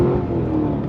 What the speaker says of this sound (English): Pulling away, clutch has got great feedback to it, nice pickup point, and just the sound.